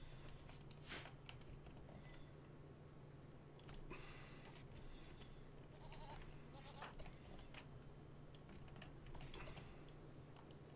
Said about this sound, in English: Three goats just joined my colony.